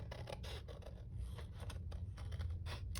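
Scissors snip through paper for a junk journal, a quiet run of close, rapid crisp cuts and scraping rustles repeating unevenly throughout.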